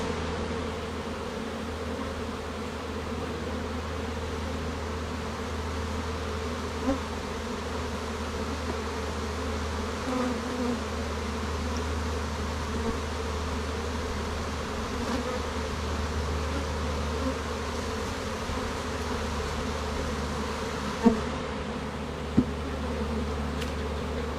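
Honey bees buzz steadily around an open hive during hive work, a dense continuous drone that holds close and even throughout, with a couple of faint knocks near the end.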